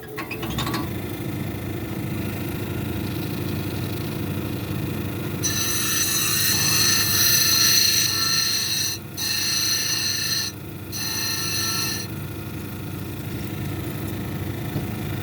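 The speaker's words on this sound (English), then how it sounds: "We're going to grind it down to the lines here." A grinding wheel motor hums steadily. Then a soft brown onyx cabochon is pressed against the wheel, adding a loud, high, ringing grind that cuts out briefly twice and then stops, leaving the motor running alone.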